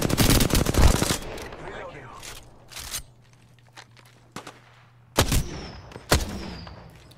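Rapid bursts of gunfire in an Apex Legends battle, with a heavy cluster of shots at the start and more loud bursts near the end, separated by quieter stretches of footsteps and scattered single shots.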